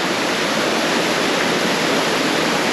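A waterfall in Reichenburg, Switzerland roars steadily, a dense, loud, unbroken rush of falling water that fills the whole moment with no other sounds standing out.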